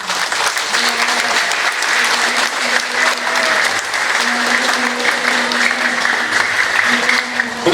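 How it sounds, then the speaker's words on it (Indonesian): An outdoor crowd at a school flag-raising ceremony for Indonesian Independence Day claps loudly and steadily for several seconds, with a faint sustained tone running underneath. "Kita kasih aplaus dan tepuk tangan."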